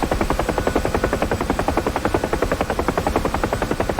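A UH-1H Huey helicopter in DCS World thumps with a fast, even rotor beat during autorotation practice, loud and close with a constant turbine whine and no talk.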